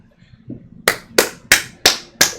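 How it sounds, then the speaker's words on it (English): Five loud, sharp hand claps in an even rhythm, close to the microphone, follow a moment of quiet shuffling. "Let's get some claps from our man Tom."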